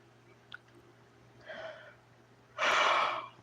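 A long drawn breathy yawn swells after a brief soft intake, loud and close at the end, with no speech over it.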